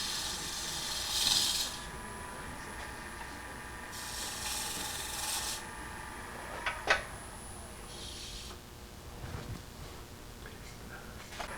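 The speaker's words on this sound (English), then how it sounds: "A little scraping to clean it up a little bit." A negative rake scraper works a two-part wooden vase, giving short bursts of dry, hissing scrape separated by quieter stretches, with a few light knocks and clicks from close by.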